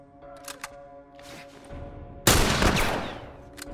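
Gunfire in The Last of Us, a loud burst at about two seconds that rings into a dense, decaying rumble, following a quieter stretch of soft game sounds and faint clicks.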